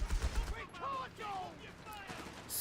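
Machine gun fire suppressing infantry in the strategy game Company of Heroes 3. A short rapid burst of shots opens, then gives way to a voice talking over faint battle noise.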